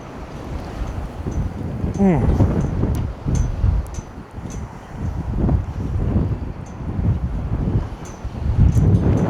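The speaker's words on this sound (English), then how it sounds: "now the wind's blowing the other direction" Wind blows in strong, uneven gusts with loud rushing buffets against the microphone. Brief sharp knocks and a short voice come through now and then.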